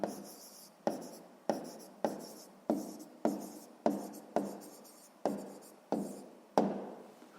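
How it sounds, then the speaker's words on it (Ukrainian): A pen writes out a sixth-grade maths answer on paper in a run of about eleven short, regular scratching strokes, each starting sharply and trailing off, close and clear with no talk. "Пишемо відповідь"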